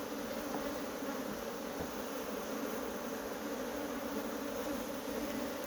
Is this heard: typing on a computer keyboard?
no